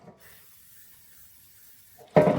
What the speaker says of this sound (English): I'm just going to give it a bit of a spray.